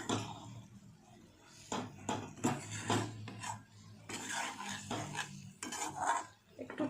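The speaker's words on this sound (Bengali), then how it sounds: "তারপর ভালো করে নাড়িয়ে চাড়িয়ে সব মিক্সড করে নেব একসাথে।" A spoon scrapes and knocks in a pot as spices are stirred into amla murabba, in irregular rubbing, clinking strokes at close range.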